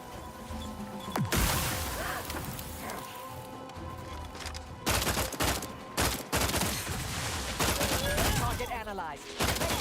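Gunfire from a gun in a shooter video game: repeated loud bursts and single shots with sharp crashes, spread irregularly through the stretch, with game sounds and some talk underneath.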